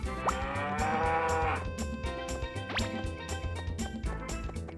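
Harvest Moon 64 farm cow lowing in a long drawn-out moo, heard alone over soft game music with a light chime and a rising tone partway through.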